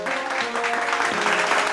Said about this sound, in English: give a good round of applause, me and Brady